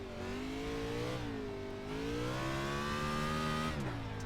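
NASCAR-style cup car engine in the iRacing sim on the Bristol dirt track, revving hard with rising and falling pitch sweeps, loud and close, no voices.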